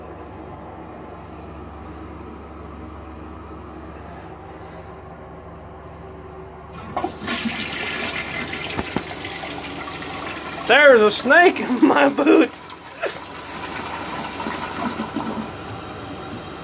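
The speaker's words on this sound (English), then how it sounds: "And when it's done flushing, it just pulls right back in." A broken pull-string toilet at home flushes with a sudden rush of water midway through, then keeps running and refilling, with people talking over it.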